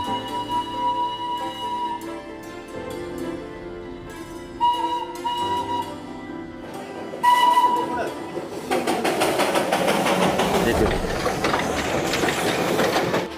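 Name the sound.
Darjeeling toy train running beside the mountain road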